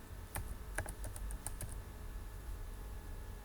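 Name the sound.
typing a password on a computer keyboard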